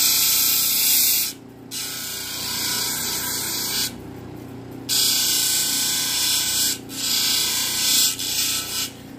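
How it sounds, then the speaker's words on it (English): Steady abrasive hissing rasp of polishing on a 3000 grit diamond wheel, running in long continuous passes broken by short pauses, loud and close. "Now I'm going to be on 3000 grit diamond wheel."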